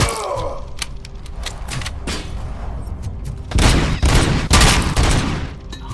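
Video game gunfire from RoboCop: loud bursts of rapid shots and heavy blasts, sparse at first and then a dense, louder barrage near the end, with a brief groan-like voice at the start.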